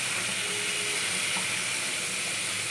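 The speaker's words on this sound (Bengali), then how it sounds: "জাস্ট একটু ফুটিয়ে নামিয়ে নেব।" Curry gravy with lemon juice bubbles in a pot, a loud, steady hiss and sizzle that holds constant throughout with no voices.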